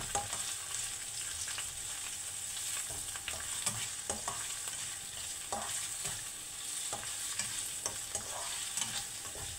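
Ginger added to a hot pan sizzles and is stirred, a continuous frying hiss broken by repeated scraping and stirring clacks, close and steady with no talk.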